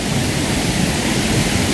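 Steady, broadband rush of river water flowing close by, loud and unbroken for the short stretch, with no voices over it.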